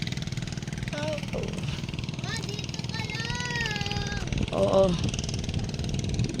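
Motorcycle engine idling steadily in Ormoc City, a low, continuous rumble running throughout, with people talking over it.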